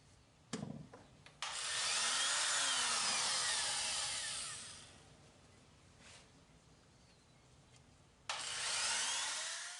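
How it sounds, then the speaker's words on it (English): Handheld router trimming the edges of a wooden beer box at about a quarter-inch depth. A few clicks come first, then the motor whines at full speed, slows and quiets midway, and surges loud again near the end. "you could go ahead and freehand router it like this and take your time to work your way around the edges"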